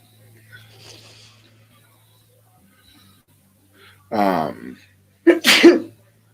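A single loud sneeze in a quiet room, preceded by a short inhaled catch, standing out sharply against faint background hum and a low murmur.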